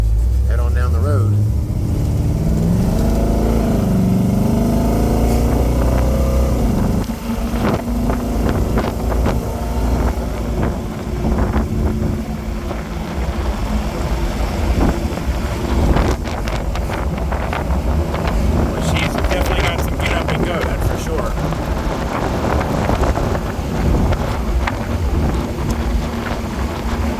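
A 1980 Pontiac Trans Am custom roadster drives down the road, its steady engine drone and heavy wind rush sustained and loud throughout, with someone talking over it.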